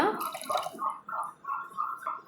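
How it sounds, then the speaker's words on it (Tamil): Water poured onto sugar for jangiri syrup, a wet, bubbling splash of liquid filling the vessel in uneven pulses, close and alone. "இந்த சர்க்கரை இதில் முங்குற அளவுக்கு வந்து தண்ணி சேர்த்துக்கலாங்க"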